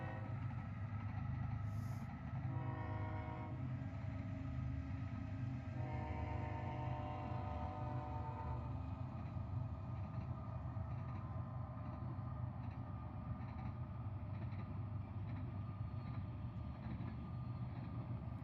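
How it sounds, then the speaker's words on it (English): A train rolling past near an airport, a steady loud rumble with rhythmic clatter and a brief horn-like tonal passage early on, continuous throughout with no speech. "And we got a train coming."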